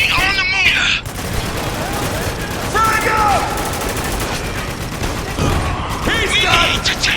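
Dense gunfire in the Spec Ops The Line video game, with sustained machine-gun bursts and rattling fusillades filling the scene, while shouted voices break through at the start and end.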